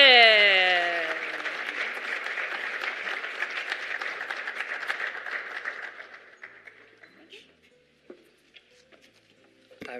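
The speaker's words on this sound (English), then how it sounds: "Please give him a resounding applause." Audience applause fills a symposium hall, starting strong after a short burst of stage music and holding steady for several seconds before fading into scattered claps and quiet room noise.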